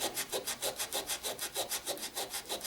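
Hand sanding of a wooden Rickenbacker 325 guitar body with fine-grit paper along the grain, a soft rhythmic back-and-forth scratching in even strokes, close and quiet with no voices.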